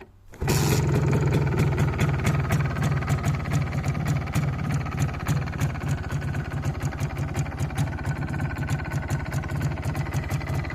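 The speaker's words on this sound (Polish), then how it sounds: "Zaraz ją uruchomimy i posłuchacie jak ona fajnie pracuje." MZ ETZ 251 two-stroke motorcycle, around 61,000 km, fires up after a short quiet moment and settles into a steady, rapid, close-up idle that runs on with an even beat, no voices.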